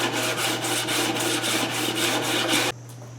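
Sandpaper glued to a long acrylic sheet is worked back and forth across reclaimed bowling alley wood, giving a steady rhythmic rasping close by with regular strokes, then stopping abruptly near the end.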